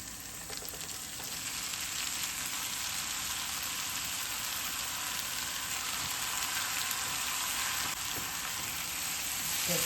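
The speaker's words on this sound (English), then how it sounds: "I'm going to add the tomatoes in" Tomatoes frying in sizzling oil for mixed lentil dal, a constant bright hiss and crackle close by that builds slightly louder toward the end, with no voices.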